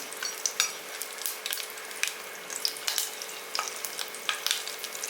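Whole spices and slit green chilies fry in hot oil in a pan, giving a continuous crackling sizzle with sharp pops and spatters scattered throughout, close and fairly loud, with no talk.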